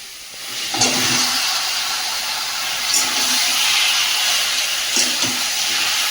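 Chicken goes into a little hot oil with fried ginger and garlic, giving a sustained bright hiss and sizzle, with a few soft thuds and knocks from the pan.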